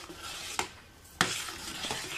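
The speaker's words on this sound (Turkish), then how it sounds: "Şöyle bir karıştıralım." A spoon stirs ezogelin lentil soup seasoned with butter in a pot, giving two distinct clinks against the metal over a soft, quiet background sizzle.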